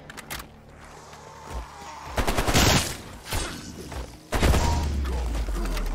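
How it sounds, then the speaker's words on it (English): Rapid gunfire from a gun in Cold War Zombies, compared to a paintball gun, comes as several separate bursts of shots at mid loudness over a steady game background. "It's like a paintball gun."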